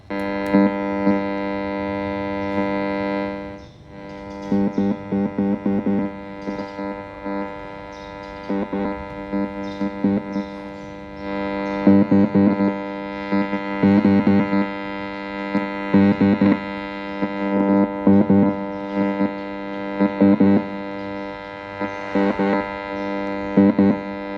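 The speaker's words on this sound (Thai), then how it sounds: "ต่อไปเป็นเสียงแตกนะครับ" A distorted electric guitar tone plays in bursts of chugging chords and sustained notes through an amplifier, with short pauses between phrases.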